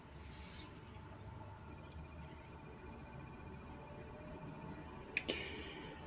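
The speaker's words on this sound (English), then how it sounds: "Crickets." Crickets chirp steadily in a continuous, fairly quiet trill, with a couple of faint sharp clicks near the end.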